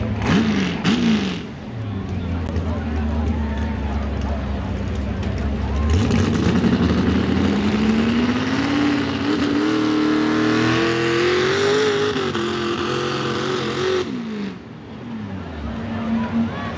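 A 6,400-pound pro stock four-wheel-drive pulling truck engine revs hard and steadily at a truck and tractor pull, its pitch rising and holding loud and close, with crowd noise behind.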